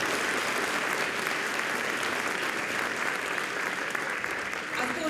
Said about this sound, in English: I think we clap again.